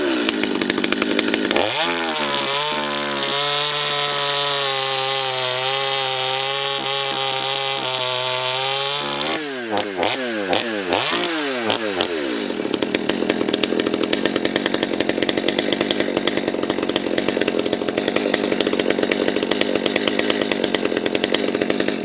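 A Stihl MS250 chainsaw with a modified muffler revs loudly and bogs down as it bites into solid wood, then climbs in pitch and races again, a harsh, close engine roar with no voices.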